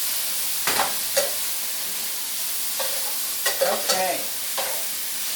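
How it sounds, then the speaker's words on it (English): Onions sauté in oil in a pan, giving a steady close sizzle punctuated by a few brief stirring scrapes, and a voice speaks once briefly. "This mixture is still sauteing a little bit."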